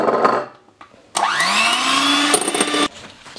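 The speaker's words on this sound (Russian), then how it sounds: "Добавляем лимонный сок и еще раз взбиваем." An electric mixer whips meringue after lemon juice is added, starting with a loud whine that rises in pitch and runs steadily for over a second before cutting off, preceded by brief clatter.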